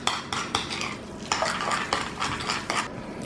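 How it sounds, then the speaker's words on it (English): Ingredients for a rotisserie chicken panini filling mixed in a bowl with utensils, giving a rapid series of clinking, scraping strokes against the bowl, close and fairly loud with no talking. "Give that a good mix."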